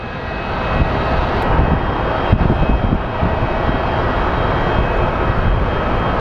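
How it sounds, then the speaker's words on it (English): A Frontier Airlines jet landing at Phoenix Sky Harbor gives a loud, steady engine roar with a broad rumble and a whining hiss. It holds close and constant throughout, with no voices. "here comes our Frontier Flo the Flamingo livery from Salt Lake City"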